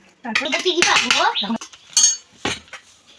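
Cooked rice is tipped into a cooking pot and stirred, loud metallic clanks and scrapes of a spoon against the pot coming in short bursts with pauses between, close by and without talk.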